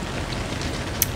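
Rain falls in the Toca Life World game, a steady soft hiss that runs through the whole brief moment with one small bright tick near the end.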